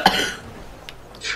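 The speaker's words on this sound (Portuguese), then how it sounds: "Caralho, quase que morro para aqui com tosse." One person coughs, a sharp loud burst at the start followed by a raspy fading tail, then a couple of fainter breathy sounds close by.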